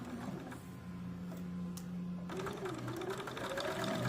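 Sewing machine stitching a small piece of a doll skirt, a quiet rapid mechanical whir running continuously with slight shifts in speed and pitch, close and alone.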